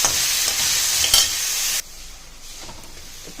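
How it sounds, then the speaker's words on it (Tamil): Tomatoes and aubergine sauté in a pan for a brinjal tomato rice, a loud steady sizzle with stirring scrapes that drops to a quieter hiss partway through. "தக்காளி ஆட் பண்ணி நல்லா வதக்கணும்"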